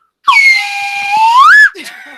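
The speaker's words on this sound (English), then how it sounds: "comes the whistle" A single long, loud whistle, probably a train horn or RV whistle, holds a steady pitch, then rises and swoops up before ending abruptly, followed by a few faint chirping sounds.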